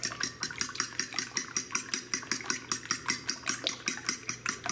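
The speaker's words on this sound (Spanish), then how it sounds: "Vamos aquí a batir los huevos." Seven eggs with a pinch of salt are whisked briskly in a bowl for a Mexican nopales-and-egg dish, a fast steady rhythm of utensil clicks against the bowl, close and continuous with no talking.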